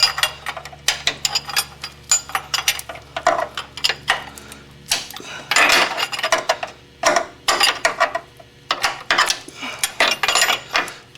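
A 19 mm socket and 3/8-inch drive ratchet handled during work on a Mercedes 300D air-conditioning system, heard as close, loud metallic clinks and rattling taps in irregular bursts with short pauses, with no talking.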